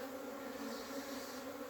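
Dark honey bees pour out of a hive on their first flight of the year in late February, a dense steady buzzing swarm close by that fills the air without pause.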